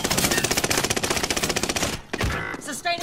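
Rapid automatic gunfire rattles from a shooter video game in a fast, evenly spaced burst lasting about two seconds, then stops, leaving quieter game effects and a voice.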